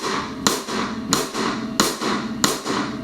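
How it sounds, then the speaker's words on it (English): Cross stick rim clicks on a drum set, four crisp, woody knocks struck at an even, steady pace, each ringing briefly, close and fairly loud with no talking. "The common name for it is a cross stick, and it sounds like this."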